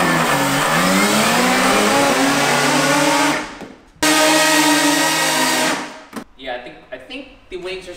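Small RC Quinjet airplane fitted with VTOL motors spins up to a loud, steady high-pitched whir, cuts out briefly, surges back for a couple of seconds, then drops away into scattered softer noises.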